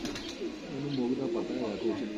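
Soft, low pigeon cooing repeats in short rolling phrases, close by, with a faint voice underneath.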